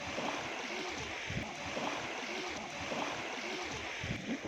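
Baltic Sea water at a Polish beach, with a soft continuous wash of small waves and surf in a steady rush, heard alone at a fairly low level.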